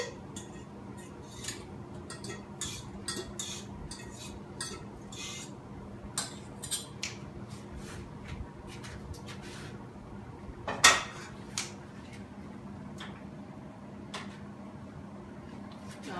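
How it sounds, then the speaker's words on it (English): A metal fork scrapes and clinks against a pan to loosen stuck pasta, giving scattered short scratchy taps and one sharper clank amid kitchen clatter, while a person talks. "I'll just get my fork and use it to scrape just a little"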